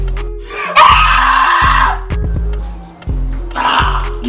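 A voice imitates a woman screaming, with loud, drawn-out shrieks that rise and break off, followed by a shorter second cry after a pause.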